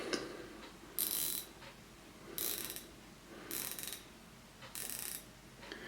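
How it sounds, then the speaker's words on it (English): A small wristwatch bezel turned in short bursts, giving four quiet, tinny ratcheting click runs spaced about a second apart over faint background noise. "Not the most satisfying bezel sound you've ever heard, but it works well"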